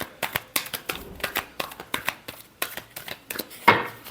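Tarot cards are shuffled by hand close by in a quick, uneven series of crisp papery clicks and riffles, ending with a louder slap.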